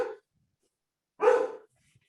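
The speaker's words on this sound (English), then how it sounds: "Pardon my dog there." A dog gives two short, sharp barks separated by a pause of about a second; both are close and loud against silence.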